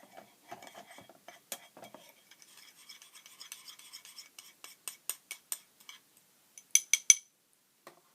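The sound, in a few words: mixing white sugar and olive oil in a small bowl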